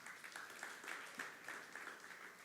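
A church congregation applauds during a sermon, a soft, fairly distant patter of many hands with a few brighter swells, steady for a couple of seconds.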